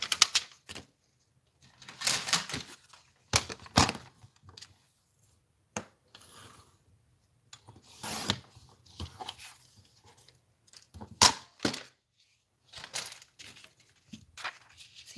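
Vellum paper is cut in a quiet room, giving sharp, close snips and rustles in scattered bursts, separated by silent gaps.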